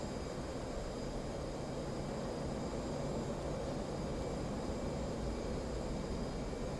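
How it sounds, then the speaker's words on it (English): A helicopter flies in a DCS World combat mission, heard as a constant broadband engine and rotor roar that holds an even level throughout, with no speech over it. "There's the helicopter."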